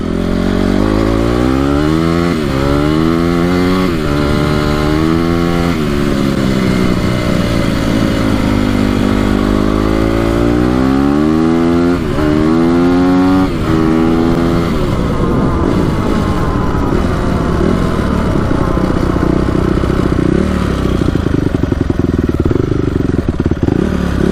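A Honda CRF250R dirt bike engine idles loud and close, its uneven putter repeatedly swelling and dipping in pitch as the throttle blips and the idle slowly steadies.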